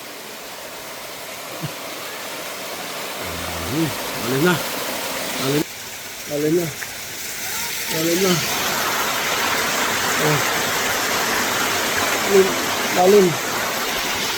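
Salay waterfall in Santander roars as a steady broadband rush throughout, with people talking and calling out over it at close range.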